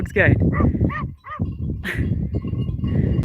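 Sheepdog herding sheep on an Alpine hillside in Austria, giving several sharp barks and yips close by, mixed with bleats and someone talking over them.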